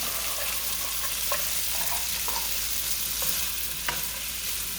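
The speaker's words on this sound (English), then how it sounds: "while I'm incorporating the aioli, I'm going to add little frozen peas" Pasta sizzles steadily in a pan while frozen peas are stirred in, a constant soft frying crackle with occasional clicks of a utensil against the pan.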